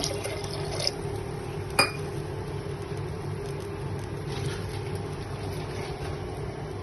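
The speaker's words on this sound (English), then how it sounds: "if you don't want to do all milk and you want to add some water, you can add some water" Water is poured into a pot while making mac and cheese in a home kitchen, a steady trickling fill with a couple of brief clinks and no talking.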